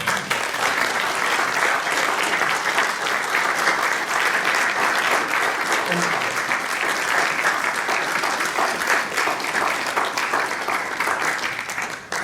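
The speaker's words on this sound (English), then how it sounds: "I hope you did not applaud me." Sustained applause from a large audience fills the hall after a talk, many hands clapping steadily and loudly for a long stretch with no letup, no voices rising above it.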